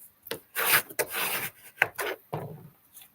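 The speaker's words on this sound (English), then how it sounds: "So again, give that a good burnish." A paper sentiment strip is burnished onto card with brisk close rubbing strokes, several dry scraping swipes in a loose rhythm and no talk.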